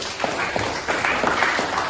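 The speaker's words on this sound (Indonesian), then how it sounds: "Luar biasa tepuk tangan dulu." A school class claps together in a steady, dense patter of hand claps from a room full of students, moderately loud and fairly close for about two seconds.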